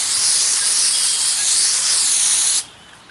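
A 4 inch turbo diamond cup wheel on an angle grinder working a concrete surface gives off a steady loud high hiss for a few seconds, then cuts off sharply.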